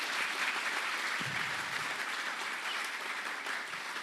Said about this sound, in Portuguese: Palmas para a Fleet, palmas para toda a organização